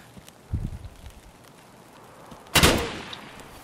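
Two gunshots in Escape from Tarkov: a soft, distant-sounding shot early on, then a sharper, louder crack near the end with a short echoing tail, and no talking.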